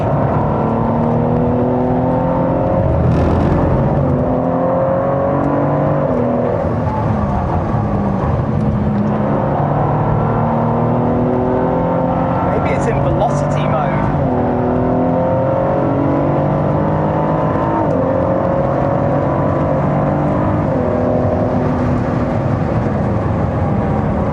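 A sports car on a race track rushes past in a loud, continuous roar, its engine note climbing and falling through gear changes before hard braking, with a brief sharp whine near the middle and no talk.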